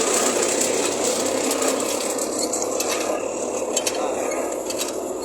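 Clay bricks being pressed and extruded by a brick-making mill machine, heard as a loud, steady mechanical grinding and rasping drone with faint ticking, continuous throughout.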